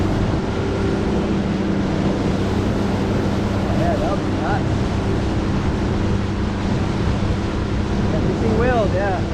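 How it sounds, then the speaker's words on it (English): Ocean waves roll and wash steadily in the distance off Kauai, Hawaii, under gusty wind noise, with a few faint high squeaks near the end. "The waves are so beautiful. Look at that. Just rolling."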